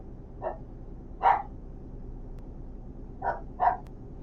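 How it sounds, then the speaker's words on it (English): A female dog barks at night in a quiet setting, four short barks spaced unevenly, the second and last louder, heard from a moderate distance over faint background hum. "Don't know what's upsetting the dog tonight, but she doesn't sound very happy."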